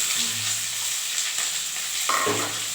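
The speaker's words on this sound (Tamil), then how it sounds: "இதில் போட்டு வதக்கிக்கலாம் நல்லா வதங்கணும்" Cauliflower, carrot and capsicum sautéing in a pan for a pulao, a steady close sizzle with a few soft stir scrapes and a brief ringing clink near the end.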